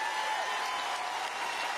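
Crowd applause at a political rally, a dense, even wash of clapping and cheering heard from a distance, sustained without a break and fairly faint.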